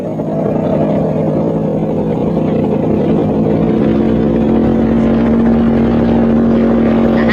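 A helicopter flying on an urgent job in a desolate area carrying electricians and gear, a loud, steady droning engine and rotor noise with a rising whine, continuous throughout.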